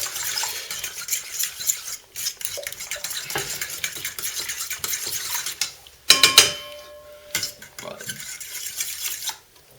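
Homemade boilie bait mix stirred with colouring in a bowl, a utensil scraping and clinking against the sides in steady repeated strokes with a brief sharper clatter midway, close and fairly loud.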